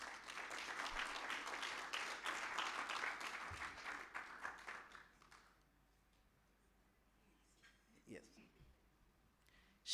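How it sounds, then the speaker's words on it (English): Audience applause at an annuity plan launch event, a dense burst of clapping that fills the first five seconds and then fades out, leaving quiet room tone with a few faint knocks. "let's give a round of applause to Mrs. Dorothy Zake"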